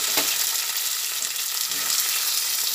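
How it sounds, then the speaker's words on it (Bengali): Chopped onion and tomato sizzle steadily in hot oil in a wok while cooking cabbage kalia, a continuous close frying hiss with a brief stirring clatter at the start. "টমেটো আর পেঁয়াজটা একসঙ্গে ভেজে নিচ্ছি।"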